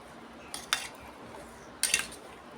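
A spoon mixing drumstick pickle clinks against its container in two short bursts of metallic scraping and tapping, close, with quiet in between.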